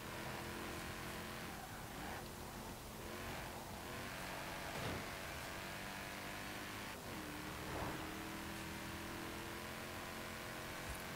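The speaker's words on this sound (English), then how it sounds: "even though I do like the sound of the engine" In Forza Horizon 4, a 2012 Mercedes-Benz SLK 55 AMG V8 engine drones and revs faintly in rising and falling sweeps under a wash of steady background noise, with no talking.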